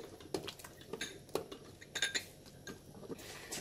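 A metal lid goes onto a pot of simmering pork-leg soup, a few light clinks and clanks of metal against metal, quiet and close.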